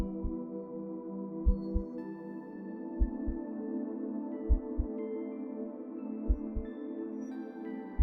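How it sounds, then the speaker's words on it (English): Soft, muffled heartbeat thumps in lub-dub pairs, slow and steady, beneath a gentle sustained musical drone. "all you can hear is the sound of your heart beating"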